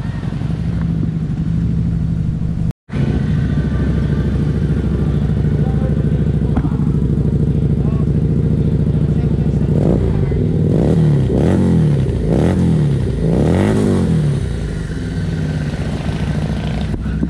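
A Victorino 250i V-twin motorcycle engine idles with a steady, close, loud rumble, then gets a series of quick throttle blips and revs toward the end, with a brief dropout early on.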